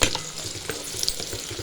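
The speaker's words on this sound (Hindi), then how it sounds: "पैन में ऑयल डाल के मैंने गरम करने के लिए रख दिया था। अब हम इसमें अपने कटे हुए प्याज ऐड कर देंगे" Chopped onions sizzle and crackle in hot oil in a pan while cooking chicken korma, a steady close frying hiss with a few sharper pops and no voices.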